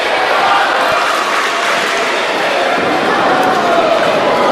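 A wrestling arena crowd at Big Time Wrestling in Raleigh, North Carolina, roars and applauds in a loud, dense, continuous wash, with a commentator talking over it.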